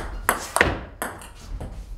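A table tennis ball strikes the table during a rally with chopped, side-under spin returns: four sharp, close taps spaced irregularly over two seconds, clear against a quiet room.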